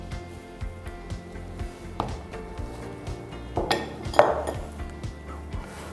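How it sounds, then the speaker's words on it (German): Chopped apples are stirred into muffin batter in a bowl, with a spoon giving a steady rhythm of soft knocks and scrapes against the bowl, broken by a few sharper clinks. "Und werden unter diese Teigmasse gerührt."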